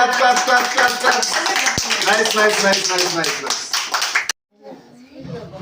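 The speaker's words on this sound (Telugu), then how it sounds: "very good claps" Hands clap together in a steady burst of applause at a birthday celebration, loud and close, with a voice calling out briefly before the clapping cuts off.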